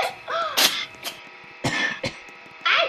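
Several harsh coughs and throat-clearing bursts from a character in the Roblox game Natural Disaster Survival, in quick succession, close and fairly loud, with short pauses between them.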